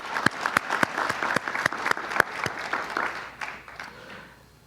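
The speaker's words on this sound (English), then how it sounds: "So give yourselves a round of applause for that." Audience applause at a microbusiness summit keynote, a mid-sized crowd clapping steadily with sharp individual claps standing out, then thinning and fading toward the end.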